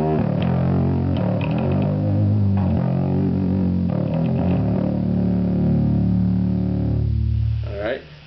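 An active Stingray bass played through an OX fuzz distortion pedal produces gritty, buzzing sustained notes with a bright, glitchy high end, loud and close, with several plucked notes ringing out before fading at the end.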